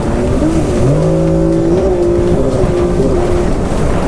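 Stand-up jet ski engine held at full throttle, a loud, close, steady roar with a rising and sustained whine that runs continuously through the whole stretch, with no talk over it.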